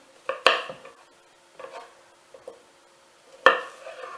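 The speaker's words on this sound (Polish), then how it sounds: "Pokroimy tam gruszkę na, na kawałki." A knife cuts a pear into pieces for a fruit salad, making a few close, sharp knocks and scrapes on a board at irregular intervals, with quiet gaps between them.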